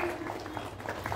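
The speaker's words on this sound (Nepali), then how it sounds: "जोरदार तालीले बधाई दिउ" Audience applause honoring Kalpana Maharjan, the Nepali journalist who climbed Mount Everest from both the north and south sides, a brief steady patter of clapping in a hall with a voice faintly over it.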